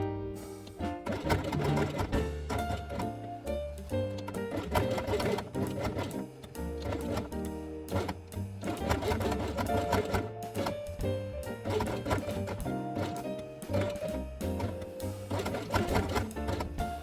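Sewing machine stitching along the edge of blue felt with white thread, a steady continuous mechanical whirr with rapid needle rhythm, close and loud throughout.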